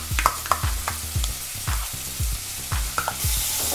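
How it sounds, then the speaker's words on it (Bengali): Onion paste frying for a Bengali-style egg curry: a steady sizzle with repeated rhythmic stirring and scraping strokes in the pan, close and clear, with no talk. "এবং এটাকেও আমরা ভালো করে ফ্রাই করে নেব, যাতে পেঁয়াজের এই কাঁচা গন্ধটা না থাকে।"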